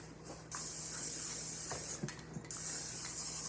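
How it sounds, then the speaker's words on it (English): Two close, loud hissing bursts from a can of cooking spray, each lasting a couple of seconds, with faint clinks and handling sounds between them. "Let me spray this"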